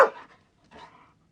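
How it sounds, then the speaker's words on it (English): Dog jumping up and down and barking, a sharp bark up front and then a softer panting huff moments later, close and fairly quiet, with no talking over it. "Watch jumped up and down and barked."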